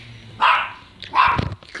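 A dog barks twice in quick succession, loud and close, followed by a short softer yip.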